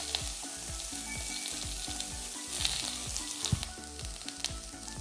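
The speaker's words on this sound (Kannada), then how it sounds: "ಲೈಟಾಗಿ ಫ್ರೈ ಮಾಡ್ಕೊಂಡ್ರೆ ಸಾಕು." Half a grated coconut fries lightly in a pan for kundapura-style crab sukka, a steady close sizzle with a rhythm of scraping stirs and small clinks, and no one speaking.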